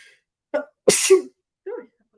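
A single loud sneeze comes from close by, with brief soft vocal sounds just before and after it.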